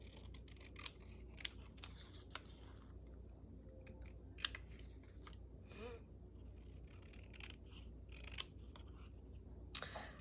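Scissors snip through paper for a scrapbook page in a quiet room, with a steady series of short, crisp cuts spread across the whole stretch and no talking.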